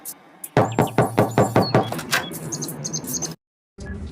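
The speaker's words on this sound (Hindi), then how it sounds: "दोबारा दरवाजा खटखटाता हूँ।" A cartoon character, a poor farmer in a Hindi animated tale, raps on a door in a rapid series of about seven sharp knocks. Light chirps and background sound effects follow, then a brief silence.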